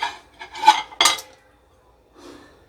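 Dishes and cutlery clatter in a home kitchen as a plate is handled: a few close, quick scrapes and clinks in succession, then a softer rub after a pause.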